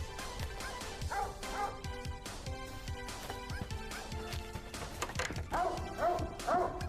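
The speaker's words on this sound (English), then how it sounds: "It's a cute and fluffy golden colored dog." A golden-coated cartoon dog in the video game Take Care of the Dog gives repeated short barks, yips and whimpers over a steady musical background, without talk.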